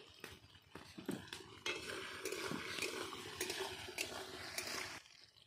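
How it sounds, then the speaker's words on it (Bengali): Potato pieces, salted, fried in hot oil in a home kitchen, giving a steady sizzle with scraping and stirring clinks of a utensil against the pan throughout, fairly close and alone, fading out at the end. "তেলটা গরম হয়ে গেছে এখন দিয়ে দেবো আলুগুলো"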